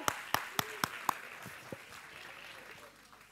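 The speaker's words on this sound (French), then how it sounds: "On applaudit François!" An audience claps for a person arriving, starting with a few sharp, distinct claps close by, then settling into a faint, thin patter that fades out.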